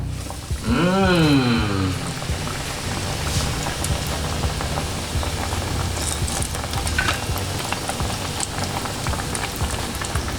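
Seasoned, crumb-coated omelette egg fries in hot oil with a steady, loud crackling sizzle throughout, opened by a brief swooping whoosh.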